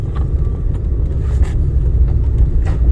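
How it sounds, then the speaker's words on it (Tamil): A driving-school car's engine hums low and steady from inside the cabin while it pulls away through a clutch and gear change, with a few faint clicks and thumps over the rumble. "வண்டி ஃபுல்லாக கிளச்சு, பிரேக் பிடிச்சி 2வது கீர் போட்டு"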